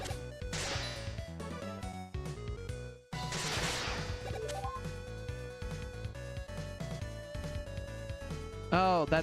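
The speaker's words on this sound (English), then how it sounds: "that's the sound of the energy balancer doing its job." Game sound effects and chiptune-style music from Mega Man 7 play throughout, with dense repeated hits and a bright rising warble near the end that fits the energy balancer item's recharge sound, loud with no talk over it.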